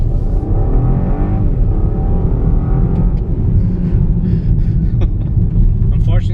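A BMW 225xe's three-cylinder engine pulls at full throttle, a loud, low, throaty drone with a rising harmonic sweep early on, steady through the whole stretch, with a voice speaking over it.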